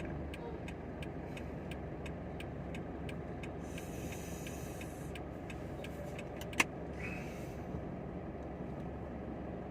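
Cars stuck in a traffic jam near the Wang Kung rest stop and public bus checkpoint, a steady low road rumble of idling and creeping vehicles with faint clicking, one sharp knock near the end, and no talk.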